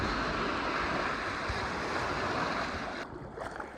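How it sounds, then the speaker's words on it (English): Choppy lake waves about two feet high, heard while heading back by kayak, make a steady loud wash with gusty wind noise buffeting the microphone, easing slightly near the end. "we got about 2-foot waves now"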